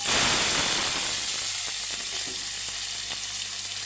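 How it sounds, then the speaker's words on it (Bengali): Chopped onion hitting hot oil bursts into a loud, close sizzle that starts sharply and settles into a steady crackling fry, with no voices. "এখন আমি পেঁয়াজ কুচিটা দিয়ে দিব। তেল গরম হয়ে গেছে।"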